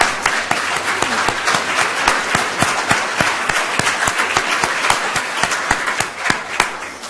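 An audience at a university public policy symposium applauds steadily to welcome a family on stage, dense continuous clapping from a full room throughout.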